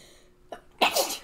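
A single sneeze, a short sharp inhaled catch followed by a forceful burst, close and fairly quiet, with no other sound around it.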